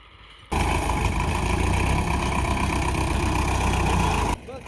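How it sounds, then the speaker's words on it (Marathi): A tractor engine runs loud and steady at close range while pushing a large bundle of fodder, a continuous heavy rumble that starts abruptly and cuts off near the end. "बघू तर आपला ट्रॅक्टर ढकलू शकेल का"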